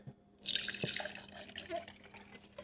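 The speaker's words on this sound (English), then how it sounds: "pour it into your blender." One cup of milk pours from a liquid measuring cup into a blender with a removable sealed bottom, a close splashing gush that starts abruptly and trails off into softer trickling.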